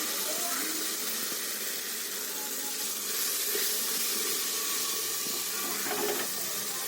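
A soda-based mixture for Assamese bamboo khar fries in oil, producing a steady, dense sizzling hiss that holds evenly throughout with no pauses.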